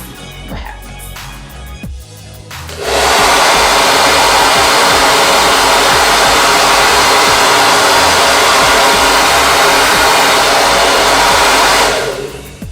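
A BaByliss Pro 2000-watt blow dryer switches on at high heat with a sudden loud, steady broadband whoosh that holds for about nine seconds, then cuts off, after a few faint handling clicks.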